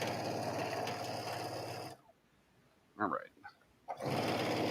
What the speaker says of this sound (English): Machines always sound louder when you're sewing like that because your mic's right there.